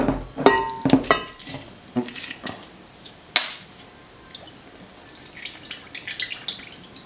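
Worcestershire sauce and soy sauce are measured out by the tablespoon while cooking, with close, small splashes and drips mixed with light clinks of spoons and dishes, sparse and irregular, and no one talking.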